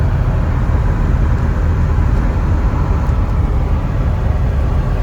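A 2003 Jeep Wrangler Sahara with over 281,000 miles cruises in fifth gear, giving a loud, steady engine and road drone with no breaks and no voices.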